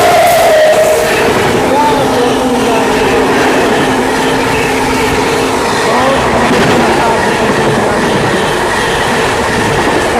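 The Sampoorna Kranti special train, bound from New Delhi to Rajendra Nagar Patna, is overtaken by another train, a loud continuous rumble and rattle of wheels and carriages close by, with a faint squeal near the start.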